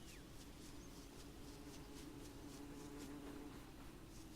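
In the video game Don't Starve Shipwrecked, a soft, steady insect buzz hums continuously at low volume over faint background noise, like bees droning nearby.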